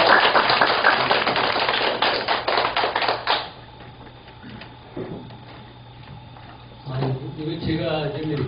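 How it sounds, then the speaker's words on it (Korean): An audience claps at a lecture on military uses of drones and robots, a brisk burst of applause lasting about three seconds before it dies away, followed by quiet room noise and then someone speaking. "큰 박수로 부탁드립니다."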